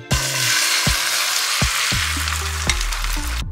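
Food fries in a little cooking oil, a bright close sizzle running steadily, punctuated by a few sharp knocks and clinks, with musical tones sounding underneath.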